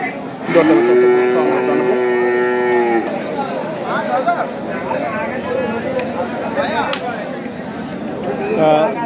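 A young calf at Ramganj, a rural Bangladeshi cattle market, gives a long, loud, close moo, followed by the hum of people talking and market chatter.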